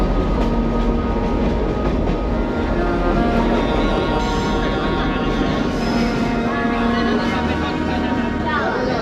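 The Sagano Romantic Train, a sightseeing train along the Hozugawa River in Kyoto, rumbles steadily along the track, with a continuous rolling clatter and faint voices murmuring over it.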